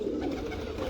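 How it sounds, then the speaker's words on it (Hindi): A large prized seven-star pigeon gives a brief, soft, low coo close by. The call is faint and lasts under a second, with no other voices. "बड़ा 7 स्टार कबूतर है"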